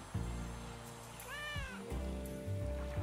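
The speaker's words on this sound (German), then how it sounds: "Ist das eine Katze, die ganze Zeit miau macht?" In the detective game Geheime Fälle: Die gestohlene Venus, a single drawn-out cat meow, meant as seagulls, rises and falls once over steady low background music.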